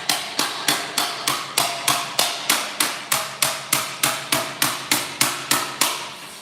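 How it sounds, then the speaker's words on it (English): A hammer beats 18 gauge sheet metal flat around the edge of a car door during rust repair. About eighteen loud, sharp, evenly spaced blows land in a steady rhythm with nothing else heard. "When I hammer that around flat, it'll be looser than the door"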